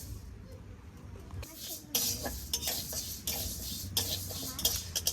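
Mung dal dry-roasting in a hot wok, with metal spatula scrapes and stirring clatters in uneven bursts, close and fairly loud over a low background hum.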